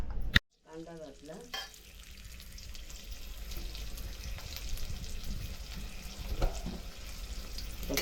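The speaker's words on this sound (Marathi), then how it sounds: "तर कांदा परतून घेते चांगला." Chopped onion frying in a few spoonfuls of oil while being stirred in a pan, a steady soft sizzle with faint scraping, after a brief sharp knock at the start.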